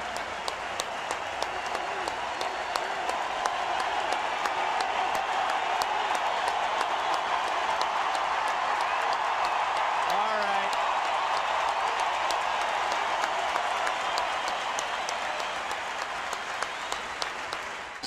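St. Louis Cardinals fans in a baseball stadium give a standing ovation, a huge, sustained roar of clapping and crowd noise that fills the whole stretch without letting up, with some talk underneath.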